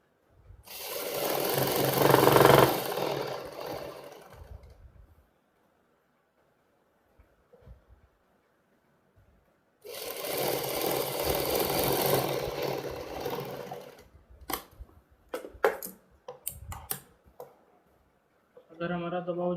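Sewing machine stitching a Punjabi suit, two sustained whirring runs of several seconds each separated by quiet, followed by short clicks and brief bursts of adjustment, close and clear.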